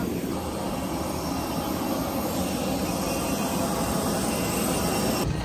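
Inside a passenger airplane cabin on a Melbourne to Sydney flight, a constant broadband engine roar and air hum drone on steadily, loud and unbroken, with no speech.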